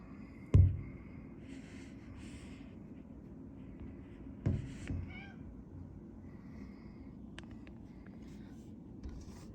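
A cat meows a few scattered times near a house deck outdoors, faint and short against a quiet background.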